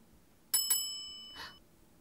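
Bright bell signalling that mail has arrived: two quick metallic rings with a lingering shimmering decay, then a softer third tap, clear and alone in a quiet room.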